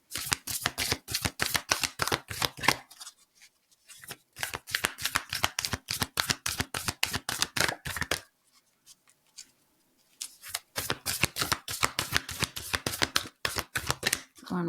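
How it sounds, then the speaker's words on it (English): Tarot cards being shuffled in quick riffling bursts, a rapid crisp flutter that stops for a few seconds twice before starting again, close up. "One more shuffle."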